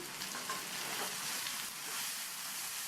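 Finely chopped large onion sautéing in a pan for a Tamil-style okra (vendakkai) masala, giving a steady, close, even sizzle with faint crackle throughout and no voices.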